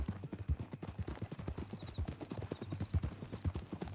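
Horse hooves clip-clop in a steady, brisk rhythm in Red Dead Redemption 2, fairly quiet and close, with no talking over them.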